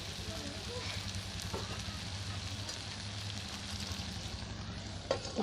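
A fish curry fry with curry leaf sizzles in a pan as it is stirred, a soft continuous crackle and hiss close by with a few sharp scraping knocks near the end.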